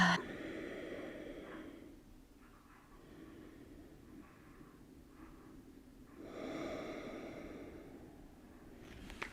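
Deep breathing during a yoga pose: two slow, audible breaths, each a long inhale and exhale, soft and close. There is no talk.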